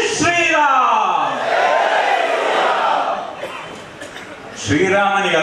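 A crowd chants Jai Shri Ram at a religious gathering, with loud massed voices rising and swelling in unison, fading toward the middle and then surging again.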